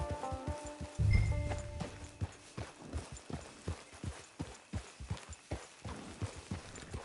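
Horse hooves in Red Dead Redemption 2 clip-clopping at a steady walking rhythm, close and distinct, after a brief rumble at the start; no talking.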